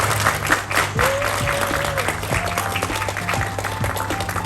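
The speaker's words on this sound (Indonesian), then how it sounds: "Mohon tepuk tangan dong." An audience at an Indonesian school applauds loudly to welcome the Minister of Education. The dense clapping runs throughout over accompanying music with sustained tones and gliding notes.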